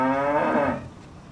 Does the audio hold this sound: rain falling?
no